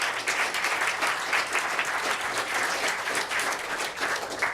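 A workshop audience bursts into steady, dense applause, many hands clapping together without pause and holding at an even volume from start to finish.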